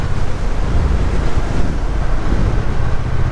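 Heavy, steady wind roar buffets the microphone while riding a Triumph Bonneville T120 motorcycle on a commute home from work, dense and loud throughout with no talk.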